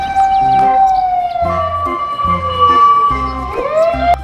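A toy siren wails in a repeating up-and-down tone, loud and close, over a rhythmic electronic jingle.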